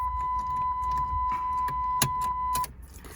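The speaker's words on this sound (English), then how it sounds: "Take the key out." Car key pulled from the ignition of a Chrysler PT Cruiser with a five-speed manual at an auction lot, a brief metallic jingle and click over a steady idling hum and a constant chime tone that cuts off near the end.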